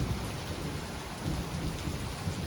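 Steady rain hisses on a metal roof on a Vietnamese mountain home, with low thunder rumbling underneath, dense and continuous throughout without any voices.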